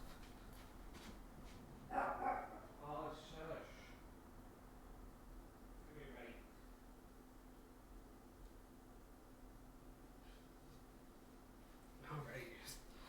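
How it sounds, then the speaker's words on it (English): A dog barks in short bursts in the background of a quiet room, with a few separated yaps spread over the clip and a person talking nearby. "he's just barking up a storm"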